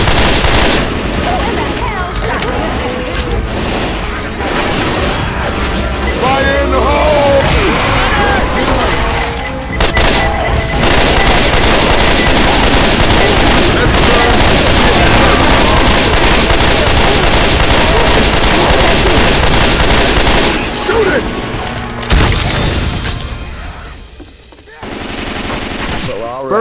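Sustained rapid gunfire with incendiary ammo in Left 4 Dead 2 survival on The Passing's Riverbank map, dense overlapping automatic bursts and booms that stay loud and close for most of the stretch, then thin out briefly near the end.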